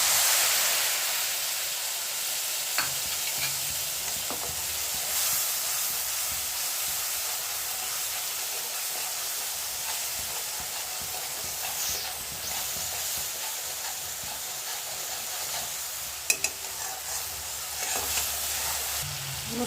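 Spice mix of garam masala, bay leaf and whole cumin frying in a pan for matar paneer, a steady close sizzle with occasional scraping and stirring clatter, no talking.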